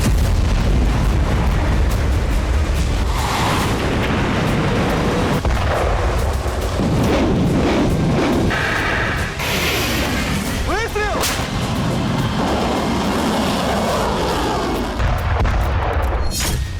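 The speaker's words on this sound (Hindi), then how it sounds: "अस्सी किलोमीटर रेंज वाली हाइमर्स से कुर्स्क में यूक्रेन ने कई बड़े हमले किए हैं" HIMARS M142 rocket artillery strikes and explosions around Kursk, loud repeated booms and blasts in dense succession, mixed with a crackle of gunfire and overlaid by talking.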